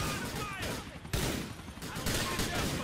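Rapid gunfire crackles in the video game GTA 4, dense overlapping bursts of shots sounding loud and continuous, with voices talking over the shooting.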